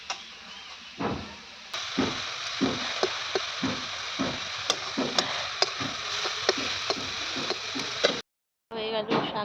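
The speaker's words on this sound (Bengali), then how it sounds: "হয়ে গেল শাক ভাজা" Leafy greens (saag) frying in a pan in a village kitchen, a soft continuous sizzle with frequent light stirring taps and clicks, fairly quiet and close, ending in a brief gap.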